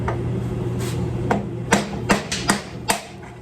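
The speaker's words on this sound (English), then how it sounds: "Just take your sledgehammer." A sledgehammer strikes the steering head bearing on a Yamaha XJ900 motorcycle fork. About five sharp metallic knocks land in quick, uneven succession over a low background hum.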